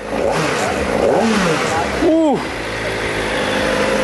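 A Kawasaki ZX-4RR motorcycle engine blips up from idle in a few quick rising revs, loud and close, while a person talks over it.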